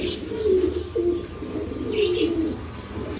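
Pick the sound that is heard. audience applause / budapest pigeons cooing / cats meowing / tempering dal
budapest pigeons cooing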